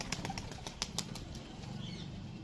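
A closed-tail, single-crest border pigeon beats its wings in a quick run of soft flaps near at hand, followed by a quieter stretch of faint background hiss.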